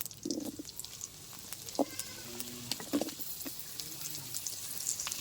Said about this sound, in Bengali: আলুটা হালকা একটু ভেজে নিয়েছি।